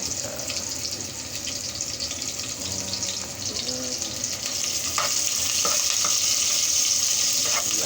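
Onions frying in a pan for an everyday home-cooked dish, a continuous close sizzle that grows a little louder midway, with occasional light clinks of stirring.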